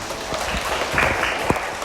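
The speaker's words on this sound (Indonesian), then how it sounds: "tepuk tangan buat kalian semua" Students in a classroom give a short burst of steady applause, a dense, even patter of many hands clapping at moderate volume for under two seconds.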